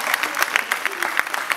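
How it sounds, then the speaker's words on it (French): Brief round of clapping from an audience cheering the winner of a dictation contest, with distinct individual claps popping out close by over a short, lively burst. "Allez, on applaudit bien fort."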